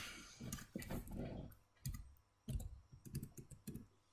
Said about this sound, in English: let's click on our search tool and let's type in window object